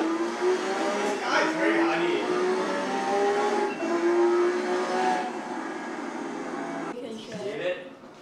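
A racing car simulator at the Lamborghini Museum in Italy plays a synthetic engine note that climbs steadily in pitch as it accelerates, then drops and rises again, fairly loud, with voices underneath.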